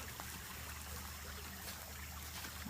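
Water trickling along a meandering woodland creek, a soft continuous burble heard from nearby at low level with no voices.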